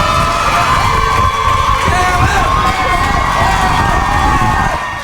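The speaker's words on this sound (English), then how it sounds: "The whole room was clapping for him and cheering" A room full of people claps and cheers for a dance crew, a loud, dense wash of applause and shouting voices that holds steady, with a slight fade at the end.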